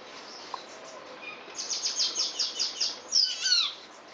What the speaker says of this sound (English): here is an example of one of the comical grackles